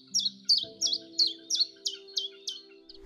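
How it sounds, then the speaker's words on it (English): A chiffchaff sings a short run of about nine evenly spaced, two-note chirps, clear and close against a quiet background with a faint low hum. "It is the chiff-chaff, and with the chiff-chaff, his name spells out his song."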